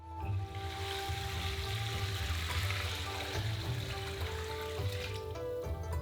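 Water poured into a pot of ramen broth holding mackerel, ginger pieces and garlic cloves makes a steady, continuous splashing rush that runs close and loud for the whole stretch, with no talking.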